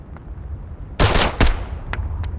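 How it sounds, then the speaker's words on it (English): Gunfire in the Road to Vostok video game during a night raid on a school: a loud, sharp burst of rapid shots, a second close burst moments later, then fainter scattered reports. "there was one other person shooting us as well"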